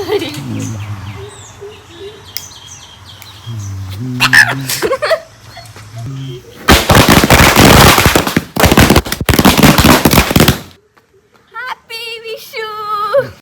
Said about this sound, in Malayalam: മാലപ്പടക്കം കയ്യിലെടുത്ത് പിടിച്ചിട്ടുണ്ട്. ബാ പൊട്ടിക്കാം.